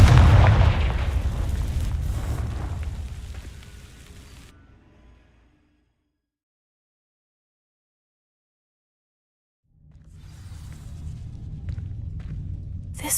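A Confringo fire spell explodes in Hogwarts Legacy as a loud, deep blast that rumbles and fades over several seconds into silence before game sounds return.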